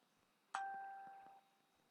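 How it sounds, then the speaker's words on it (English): A phone notification chime: one bright ding that rings out for under a second and then fades, with a quiet room behind it. "Sorry, 1 second as I turn off my notifications."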